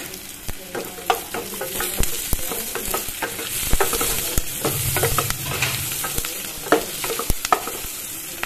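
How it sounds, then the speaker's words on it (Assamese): Panch phoron spices crackle and sizzle in hot oil along with green chillies, close and continuous, with repeated sharp spatula taps and stirring scrapes throughout. "ইয়াতে এতিয়া পাঁচফোৰণ দিছোঁ চামুচ।"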